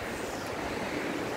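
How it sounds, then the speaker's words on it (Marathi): Water flowing at a dam in Badlapur, a steady broadband rush close to the microphone with wind noise mixed in, no talk. "हे बघा किती छान पाणी असं सुसू सुसू सुसू पाणी चाललंय"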